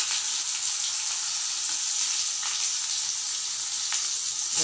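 Chopped ginger frying in hot oil in a pan for ginger chutney, a loud, steady hiss and sizzle throughout, close by and with no voices.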